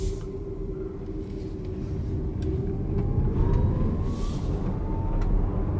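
A 2020 Audi Q5e plug-in hybrid rolls along in electric mode, its steady low-speed pedestrian warning tone humming over road and tire rumble, with a faint tone rising in pitch as it gains speed.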